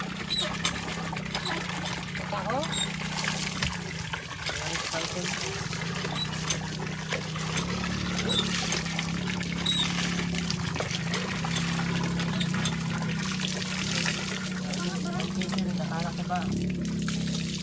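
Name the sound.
water pouring while washing a person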